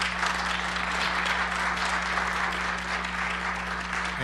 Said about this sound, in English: give these guys a big round of applause